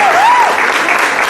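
Congregation clapping during a Sunday church service in praise of God, a dense, steady wash of applause throughout, with a sustained voice or tone gliding above it early on.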